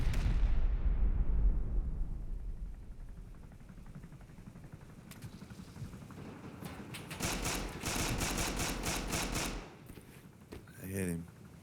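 In the video game Rust, an attack helicopter fires rockets: a steady roaring din builds into a dense cluster of loud, rapid blasts and crackling bursts, then a final sharp burst as it fades.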